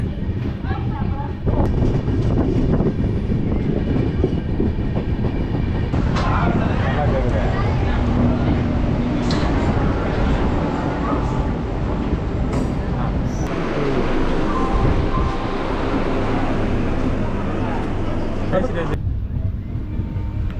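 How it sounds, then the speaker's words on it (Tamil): Loud, continuous rumble of the Brindhavan Express rolling along the tracks out of Tiruvallur, heard from inside with rhythmic rattling and clatter throughout. "இப்போ திருவள்ளூர்லேருந்தும் ட்ரெயின் ஸ்டார்ட் ஆகிடுச்சிங்க"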